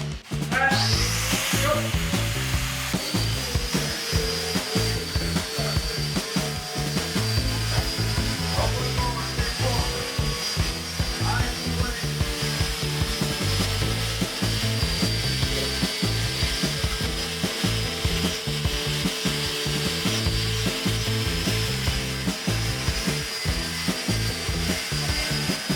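A rotary nylon web brush on a power tool strips and cleans wire, a steady loud whirring with gritty rubbing and scraping that continues without a break for about 25 seconds.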